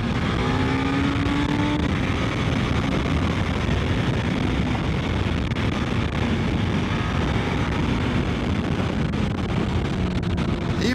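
A Suzuki GSX-S 1000 GX motorcycle ridden at high speed, its engine a steady drone under heavy wind rush that fills the whole stretch, with no voices.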